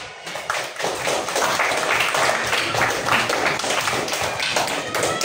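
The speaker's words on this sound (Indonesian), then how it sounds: "Untuk itu kita kasih aplaus buat kalian semuanya." Audience applause breaking out, a dense sustained patter of many hands clapping, loud and steady for several seconds.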